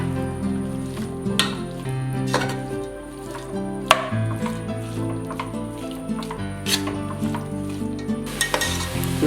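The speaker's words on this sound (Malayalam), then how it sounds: "ഇനി അതിലേക്ക് നമ്മൾ മസാല തിരുമ്മി വെച്ചിരിക്കുന്ന ബീഫ് ഇടുന്നു." Masala-marinated beef frying with tomato in a pressure cooker for Kerala beef curry, a steady close sizzle broken by repeated stirring scrapes and clunks of the spoon against the pot.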